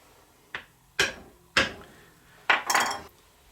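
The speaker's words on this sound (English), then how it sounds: "we will center punch in the middle of each end" A center punch is struck into the ends of a wooden file handle blank, four sharp metallic taps spaced about half a second apart, close and crisp, the last followed by a brief scraping rattle.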